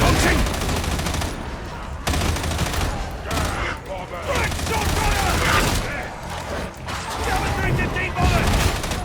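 Rapid, sustained blasts from the Fate Transfusion weapon in Warhammer 40,000: Darktide, dense and continuous over battle noise and mechanical clatter, with a voice talking over the gunfire.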